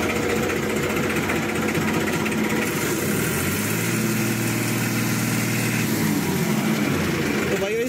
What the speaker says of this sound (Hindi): तो भाई वो बहुत ही कड़क आवाज है ट्रैक्टर की